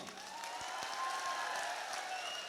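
Audience applause at a live comedy show, steady dense clapping heard at a moderate distance with no talking over it.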